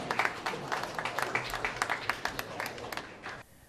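Applause from an audience at a company year-end event in Hungary, a steady patter of many hands clapping that fades out toward the end, with voices mixed in underneath.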